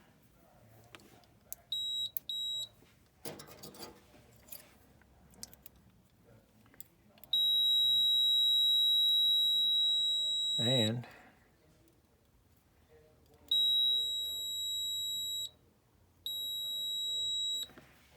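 Several steady electronic beeps from a multimeter continuity tester on a Trane gas furnace, one long tone of a few seconds and shorter ones, with someone speaking briefly between them.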